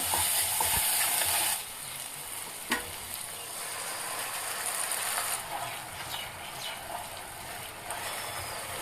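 Spices with salt, turmeric, cumin and chilli powder frying in oil for a fish-head moong dal, a continuous close sizzle with occasional stirring scrapes and a sharp knock partway through.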